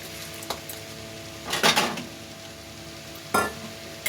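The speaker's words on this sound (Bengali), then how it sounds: "এবারে কর্নফ্লাওয়ার মেশানো জলটা দিয়ে দেব" Cornflour water is poured into a hot pan of egg chilli sauce, setting off a low background sizzle broken by a couple of sharp, brief bursts of hissing and scraping as the liquid hits the pan.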